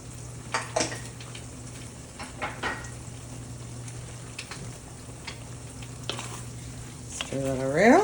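Baked beans with bacon simmering in a pan at an indoor cookout, a steady low sizzle with occasional scraping stirs and utensil taps against the pan.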